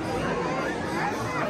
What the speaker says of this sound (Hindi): क्या भीड़ है वहाँ पे।